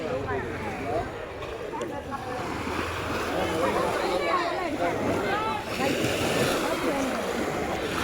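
Bay of Bengal surf washes in continuous rolling waves at a Rameswaram bathing ghat, steady and moderately loud with wind noise, while a voice talks over it.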